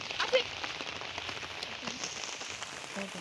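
Rain falls steadily during a village koi fishing outing on a stormy day, a soft, continuous patter on surfaces with scattered louder drops, fairly faint and unbroken throughout.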